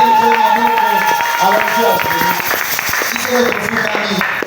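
A church congregation applauds and cheers at a French-language worship service, with a sustained wash of clapping mixed with voices and a tonal musical backing running throughout.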